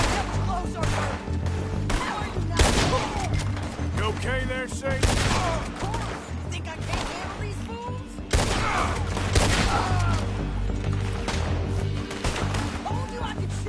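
Rapid bursts of gunfire in Red Dead Redemption 2, loud overlapping shots cracking in quick irregular volleys over a dense low rumble of game sound, with some voices mixed underneath.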